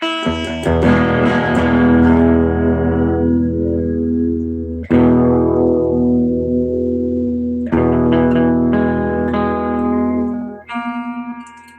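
Loud distorted electric guitar chords ring out and sustain, struck three or four times with long decaying tails, no voices.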